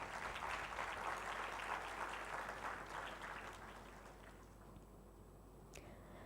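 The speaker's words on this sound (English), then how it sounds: "Could we have a round of applause" Graduation audience applauding at an English diploma ceremony, a dense clapping wash that fades over the last seconds into a quiet room with a faint hum.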